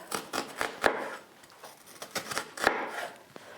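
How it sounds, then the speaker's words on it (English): A knife chops an onion quickly on a board in an irregular rhythm, with a few sharper knocks among the close, crisp cuts. "I'm not chopping all the way to the end of the onion."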